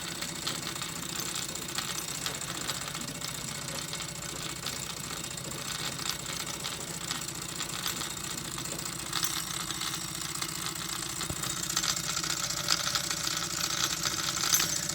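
A Wilesco D406 model steam engine runs steadily, a dense continuous mechanical chatter with fast ticking beats that holds an even level throughout and grows slightly louder near the end, with no voices.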